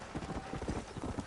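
In the Red Dead Redemption video game, a horse's hooves beat out a quick, even clip-clop rhythm on hard ground, close and moderately loud, in a short burst with no talking.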